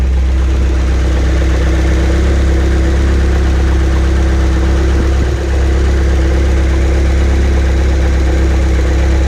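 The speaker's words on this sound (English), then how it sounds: "I cannot believe the engine just fired up that easy." A Ford Focus ST170 idles close by, a loud, steady engine drone with a constant low hum and no voices, holding evenly apart from one small dip midway.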